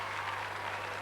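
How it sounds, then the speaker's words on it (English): Crowd at the 1994 Limerick County Senior Football Final, Galbally vs Fr Caseys, applauding a player leaving the field as a substitute, a steady wash of distant clapping under a constant low hum. "just listen to that crowd as they applaud"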